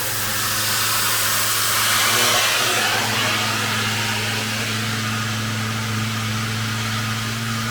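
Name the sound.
air compressor revving up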